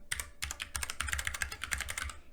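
Python code being typed on a computer keyboard produces a rapid, close run of crisp key clicks after a short pause near the start, steady and unaccompanied by speech.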